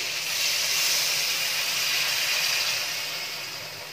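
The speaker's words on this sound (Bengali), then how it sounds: "এবার দিয়ে দিচ্ছি এর মধ্যে জল।" Water poured into a hot pan of cooking raw mango chutney, a loud steady hiss and sizzle that holds strong, then slowly fades near the end, with no talking.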